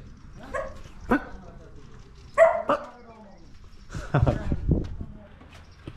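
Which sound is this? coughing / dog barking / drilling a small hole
dog barking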